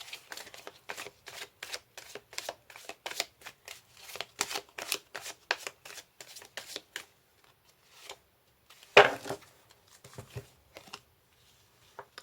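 Tarot cards shuffled and drawn: a fast run of crisp flicking riffles for several seconds, a pause, then a sharper snap and a few softer card slides, close and quiet, with no one talking.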